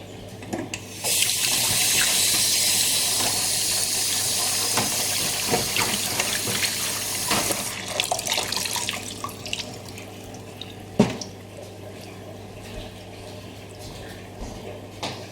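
Warm water runs from a tap into a tray for rinsing parts of a Japanese 40-day wall clock, a steady close hiss for several seconds, then stopping, followed by scattered clinks and handling sounds.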